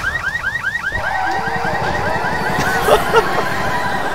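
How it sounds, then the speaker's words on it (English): A parked car's alarm in Left 4 Dead wails loudly in a rising, repeating whoop, steady and alone with only game noise beneath it. "Set the car alarm off."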